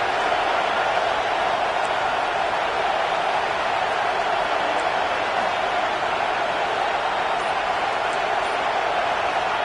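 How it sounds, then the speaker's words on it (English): Crowd roaring at a college football game, a dense, steady wash of stadium noise holding at an even level throughout, with no clear voices standing out. "The roar of the crowd trying to fuel this defense to keep them pinned in their own end."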